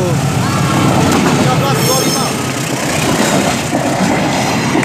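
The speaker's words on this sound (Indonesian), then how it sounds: "Kereta semen kosongan melintas langsung." An empty cement freight train rolls straight through at night, a loud, steady rumble of rail cars with wheel clatter and a brief high squeal near the start, with voices over it.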